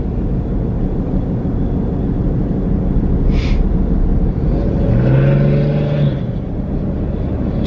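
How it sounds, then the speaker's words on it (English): Monster truck at a race track, a heavy low engine rumble that stays loud and continuous, with a rising engine note briefly standing out partway through. "Did you hear this monster truck?"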